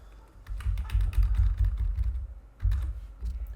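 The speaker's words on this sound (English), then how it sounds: "we type in our elevations" Quick bursts of typing on a computer keyboard while entering elevation values into a pond volume sheet, close and fairly soft, with a brief pause midway.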